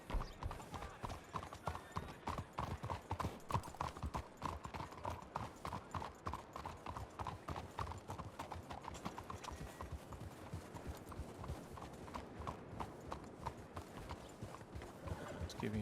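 Horses' hooves clip-clop in a steady, rapid rhythm throughout in the Red Dead roleplay game WildRP (RedM), close and continuous over a faint background hum.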